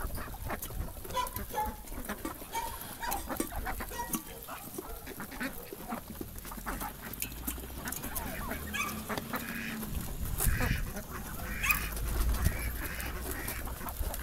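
Farmyard ducks and geese, muscovy ducks among them, feed outdoors in early spring, honking and quacking nearby in scattered bursts over a constant background of pecking and rustling.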